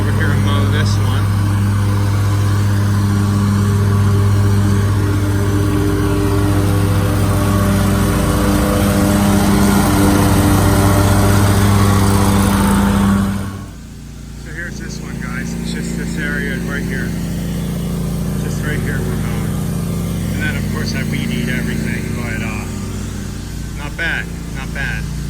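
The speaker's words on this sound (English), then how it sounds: "let me go over here and mow this one." A lawn mower mows a yard, a loud, steady engine drone up close that cuts out partway through, leaving quieter outdoor background with faint sounds.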